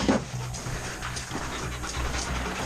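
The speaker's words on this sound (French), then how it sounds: "J'ai le chien qui me marque." A police sniffer dog pants steadily and close by in rapid, even breaths that continue throughout.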